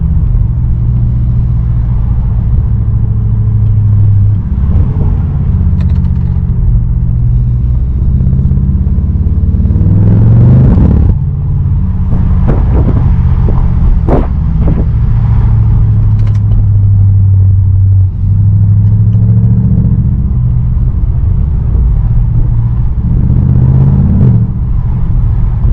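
A straight-piped BMW exhaust rumbles loud and deep from inside the car, holding a steady low drone that swells and eases with throttle changes, with occasional rattles over the top.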